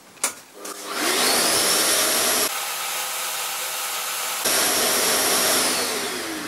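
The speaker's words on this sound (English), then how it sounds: "let's see if the shop vac will do it" Shop vac running over a dirty bentwood bench, a loud close roar of suction that starts after a brief knock, then shifts in tone as the nozzle moves across the wood.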